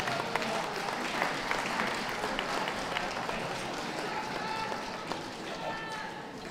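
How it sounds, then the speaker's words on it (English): Sustained applause from a crowd at a championship dog show fills the whole stretch, steady and fairly distant, with a voice talking over it. "A round of applause for all those leaving the ring,"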